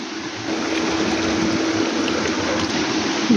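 Water churns and gurgles through a filtration system at a sturgeon and trout farm in Zakarpattia, a steady close splashing flow with a faint pump hum beneath and no speech.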